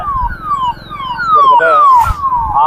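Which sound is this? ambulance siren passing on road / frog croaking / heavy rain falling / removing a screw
ambulance siren passing on road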